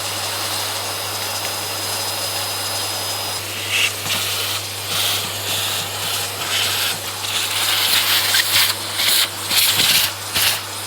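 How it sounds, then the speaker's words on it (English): A vacuum cleaner, with a brush, draws dust out of an Epson RX-80 dot matrix printer during cleaning. It holds a steady whooshing hiss throughout, with a low hum underneath. Rubbing and sucking bursts swell as the nozzle works across the printer. "remove the dust from it with a vacuum cleaner and a brush"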